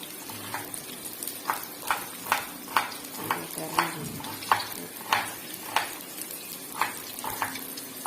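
Chopped onions, four or five of them, are sautéed in a kadai for crab gravy. Steady stirring scrapes recur about once a second over a soft, continuous sizzle, close by, with no talking.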